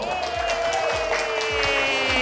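Applause from a conference audience welcoming the woman moderator at an afternoon session, a steady dense patter of many hands held at an even level through the whole stretch, with a faint tonal hum running underneath.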